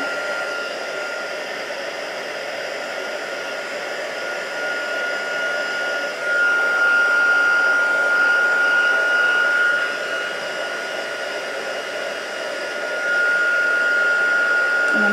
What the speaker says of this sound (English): I tend to hold the heat tool a bit further away,